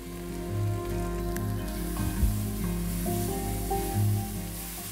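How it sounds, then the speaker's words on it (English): Onions sweating and sautéing in a pot for vegetable soup give a steady, dense sizzle with soft crackles and occasional stirring knocks, close and continuous, no talk. "Taking the time to really sweat off the onions will really intensify the base flavor of the soup."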